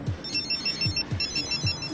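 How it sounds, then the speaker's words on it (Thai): A telephone rings faintly in short repeating trills with a low thumping pulse beneath, heard from some distance in a quiet room. "มึงได้ยินเสียงโทรศัพท์เหมือนกูไหมเนี่ย"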